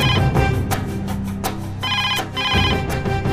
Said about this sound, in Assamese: বাজিল সেইটো তেওঁৰে ফোন ধৰ